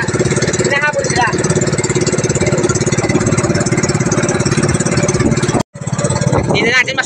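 Large, powerful engines of fast boats at sea drone loudly and continuously with a pulsing throb, briefly cutting out before resuming, while a voice speaks over them.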